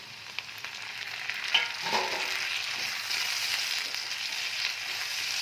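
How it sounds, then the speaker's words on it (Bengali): Steady oil sizzle of chopped tomato frying with onions, occasional crackles and a soft stir or two partway through, close and moderately loud, with no voices. "টমেটোটা একটুখানি ভাজতে হবে"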